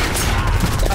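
Rapid gunfire from a first-person shooter video game rattles in a dense, continuous burst of loud, close shots with no pause.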